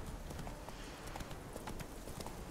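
Horse hooves clip-clopping in the video game The Witcher III, a quick steady trot of hoofbeats on a hard path, continuous and fairly close, with no talk over it.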